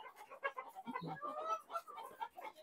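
Laying hens in a chicken house give soft, overlapping clucks in quick bursts, faint and close, with no speech.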